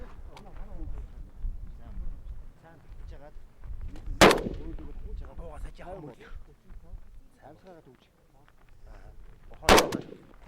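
Two sharp, loud gunshots ring out several seconds apart at a shooting range, each with a brief echoing tail, while people talk in the background.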